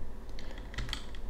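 Computer keyboard keys are typed in a short burst of a few quick, close taps, heard near and alone with no talking.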